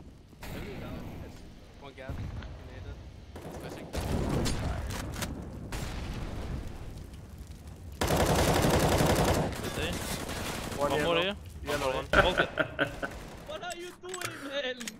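Gunfire from a first-person shooter match plays in bursts of rifle shots and rapid automatic fire, dense for a few seconds at a time, with players talking over the action.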